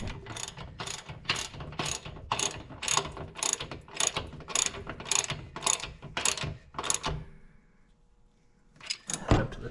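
Ratchet wrench with a 3/4-inch socket working a large lower bolt on a 1995 Honda Goldwing trike during air spring replacement: a steady run of close, rapid clicking strokes for about seven seconds, a pause, then a short final burst.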